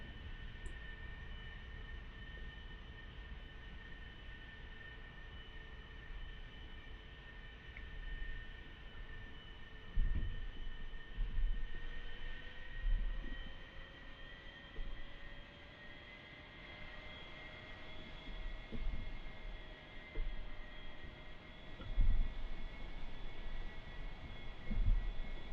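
An aircraft taxis quickly along a runway in the DCS flight simulator, its engine holding a steady drone with a rising whine and several dull thumps and rattles from the airframe, with no speech.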